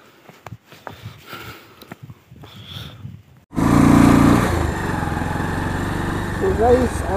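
A motorcycle engine starts up after quieter sounds and a voice, then runs loud and close with a steady idling drone and slight revving near the end.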